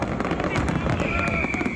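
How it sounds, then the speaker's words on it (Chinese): High aerial fireworks burst over a crowded festival night during the Keelung Ghost Festival, a dense rumble of crackling explosions running continuously while the crowd murmurs beneath. "现场阁来放这个高空的烟火"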